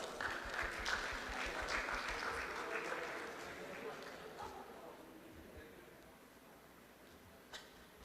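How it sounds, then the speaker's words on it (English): Audience applause at a peace talk session after a certificate of appreciation is presented, a dense round of clapping that is strongest at the start and gradually fades to a faint patter, with a brief murmur near the end. "Let's give him a round of applause."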